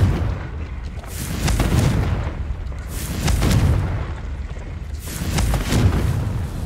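The Confringo explosive curse in the game Hogwarts Legacy sets off three rolling, booming blasts in succession, each a deep rumbling explosion swelling and fading, loud and close with no voices over them.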